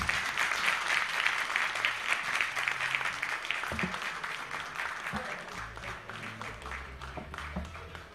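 Conference audience applauding for a healthcare technology event organizer, a dense, steady wash of clapping that gradually thins toward the end, with a low hum underneath.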